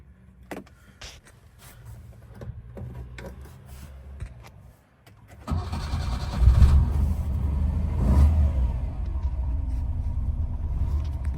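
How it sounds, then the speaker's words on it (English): A 1970 Lancia Flavia Milleotto Berlina with a restored Solex PAIA 32 carburettor and a non-working choke is on a road drive. Faint clicks and knocks give way to a loud, steady engine rumble about halfway through. "first road test with a new carb, or the reconditioned, apparently restored carb, but with the choke not working"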